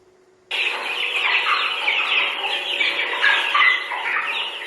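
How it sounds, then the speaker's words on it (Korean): Hens in a village chicken coop cluck and chatter in a busy, overlapping chorus, fairly close and continuous after a near-silent start, with sharper calls standing out now and then. "Et voilà les poules."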